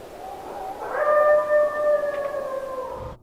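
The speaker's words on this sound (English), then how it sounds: "Growling. Coyotes." Coyotes howl at night near a campsite: several long, wavering, high-pitched cries rise together and hold for about two seconds before trailing off, loud and fairly close, with no talking.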